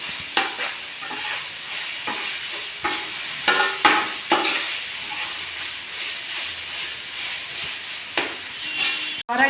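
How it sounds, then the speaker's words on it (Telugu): Ginger garlic paste frying in a pan for a fish curry, with a steady close sizzle and hiss broken by repeated scraping strokes of a spoon stirring it. "దోరగా వేగిన దాకా తిప్పుతూ ఉండాలండి"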